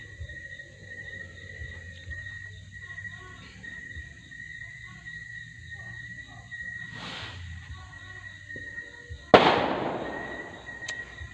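New Year's Eve fireworks and firecrackers go off in the distance as muffled pops and a soft boom, then one sharp, loud nearby blast crackles and fades out.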